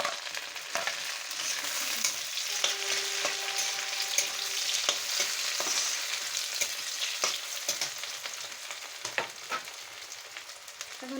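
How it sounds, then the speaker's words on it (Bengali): Onions frying in oil until browned, for a pangas fish curry, sizzle steadily up close, with frequent scraping stirs and clicks of a spatula against the pan. "আমাদের পেঁয়াজটা ভাজা ভাজা হয়ে গেছে, ব্রাউন কালার হয়েছে।"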